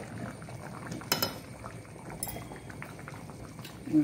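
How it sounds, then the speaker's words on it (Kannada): Mangalorean sorekai sambar bubbles in a covered pot, a steady close simmering burble with a couple of sharp metallic clinks from the lid or a spoon, no speech. "ಇಲ್ಲಿ ನೋಡಿ ಇದು ಕುದೀತಾ ಉಂಟು"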